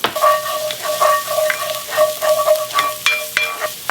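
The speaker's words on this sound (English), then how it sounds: "you hear that sizzling? That's a good sound." Close, crackling sizzle of garlic and ginger frying in hot oil, with scraping stirs and utensil taps against the pan.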